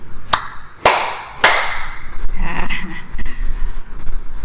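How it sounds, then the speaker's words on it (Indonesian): Three distinct hand claps sound in a Sunday school follow-the-leader game, spaced about half a second apart and growing louder, followed by faint room murmur. "Tepuk tangan 3 kali"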